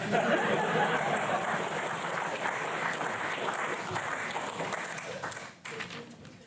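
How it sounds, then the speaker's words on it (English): Clapping from a literary performance audience, a broad continuous patter of many hands that holds steady, then thins and drops away near the end. "You can clap."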